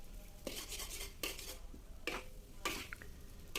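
A metal utensil scrapes and clatters against a wok while mixing food in several separate bursts, close and moderately loud, with short pauses between strokes.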